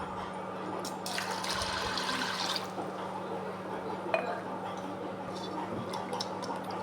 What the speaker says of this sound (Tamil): ரெண்டு கிளாஸ் தண்ணி ஊற்றிருக்கேன்.